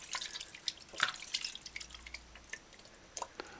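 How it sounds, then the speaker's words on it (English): Chicken thigh and leg pieces washed by hand in a bowl of water with white vinegar, giving faint, close, irregular drips, splashes and trickles with no talking. "I'm washing in between this chicken's thigh and the chicken's leg properly"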